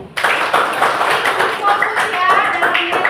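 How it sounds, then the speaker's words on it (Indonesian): A classroom of students claps for a classmate, a brisk burst of many hands starting abruptly and continuing steadily, with a voice or two underneath. "Berikan tepuk tangan buat Puri."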